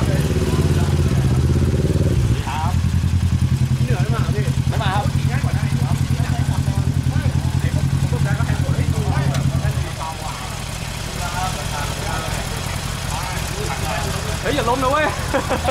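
Harley-Davidson motorcycle engine idles loud and close with a steady low rumble, revs briefly, then pulls away and fades as the bike rides off, leaving quieter background sound and faint voices.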